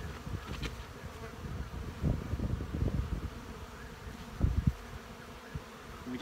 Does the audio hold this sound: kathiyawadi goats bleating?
no